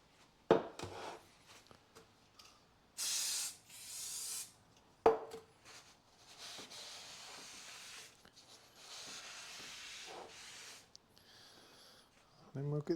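Brake cleaner hisses in short sprays onto a new rear brake disc for a 2012 Kia Picanto 1.2 petrol, followed by close rubbing and wiping of the friction surfaces, with sharp knocks between.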